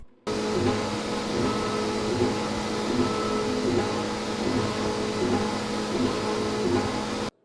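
A 3D printer fabricating parts for drone detectors runs with a steady, loud mechanical whir and faint rhythmic motor pulses, continuing without a break and with no voices.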